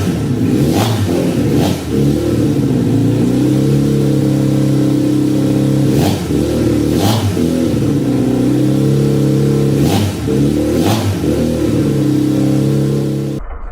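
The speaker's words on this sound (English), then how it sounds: "I'm going to show a few clips of me trying to get the bike tuned." A supercharged 1968 Honda motorcycle engine idles loudly and steadily up close during tuning, with a series of quick throttle blips and revs breaking the even drone at irregular intervals.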